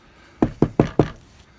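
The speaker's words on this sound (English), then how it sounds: "Knock louder." Four firm knocks land on a door in an even, quick rhythm. They are close and clear, with silence before and after.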